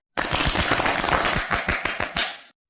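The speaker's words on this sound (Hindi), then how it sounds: "ताली बजाओ ताली बजाओ" A village crowd claps at a Republic Day flag hoisting, a dense burst of applause lasting a couple of seconds with scattered sharper claps, loud and close, with no voices.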